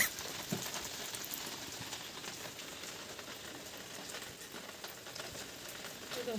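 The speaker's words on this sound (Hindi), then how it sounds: "आज बहुत तेज़ बारिश लगी हुई है" Heavy rain falling, a steady dense hiss of drops on surfaces, continuous and even at moderate distance with no voices.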